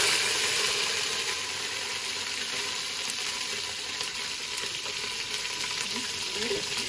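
Bay leaves dropped into hot oil for Bengali pulao give a loud, steady, crackling sizzle that holds throughout with no break.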